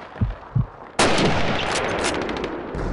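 A single sniper rifle shot rings out in the Call of Duty 2 WWII city battle, a sharp loud crack followed by a long rolling echo and battlefield rumble, after two faint thumps, with no talk.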